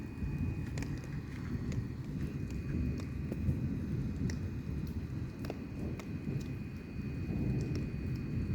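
Heavy rain drums steadily through a violent morning thunderstorm, with a low rumble and faint sharp ticks under it, the whole wash fairly quiet and distant.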